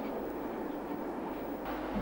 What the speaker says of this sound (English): We're riding in the control trailer of a local train powered by a 5000 series motor coach.